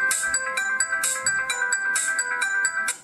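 A Motorola Razr V8 Luxury Edition phone plays a bright, fast-repeating electronic ringtone melody, clear and close, with no talk over it.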